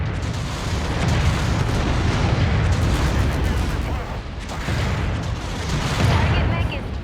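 Dense, rumbling weapons fire and explosions from the MechWarrior 5: Mercenaries game, continuous heavy booms and blasts layered together, loud and close, with a brief dip midway before the barrage resumes.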